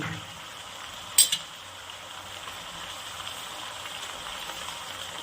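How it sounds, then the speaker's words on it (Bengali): Seeds frying lightly in a pan for a churi dried fish curry, with a steady, faint sizzling hiss and one brief clink of a utensil early on. "এবার এই বীজটা দেওয়ার পরে এটাকে একটু অল্প হালকা এটাও ভেজে নেব"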